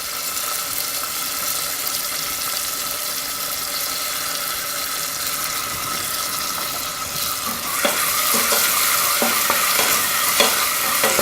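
Torn roasted red peppers frying in a pan, a steady close sizzle with stirring and scraping that grows louder and busier toward the end.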